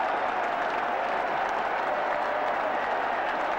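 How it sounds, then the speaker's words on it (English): A roaring cricket crowd at Southampton after Proctor's hat-trick, sustained applause and cheering that stays steady and full throughout, with no voices standing out. "the crowd again has gone mad"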